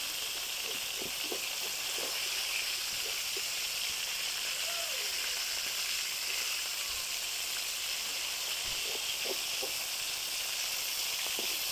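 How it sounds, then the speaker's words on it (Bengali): Fish sizzle in hot oil in a pan, a steady close hiss with occasional pops and spatters running throughout, the cook moving pieces now and then. "আমার মাছের এক পাশটা ভাজা হয়ে এসেছে"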